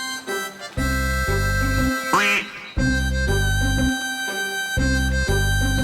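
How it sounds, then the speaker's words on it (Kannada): A brief mallard duck quack rises out of steady, bouncy background music partway through, with the music continuing loudly around it. "ಇದನ್ನ ನಾವು ಮ್ಯಾಲಡ್ ಡಕ್ ಅಂತ ಕರಿತೀವಿ"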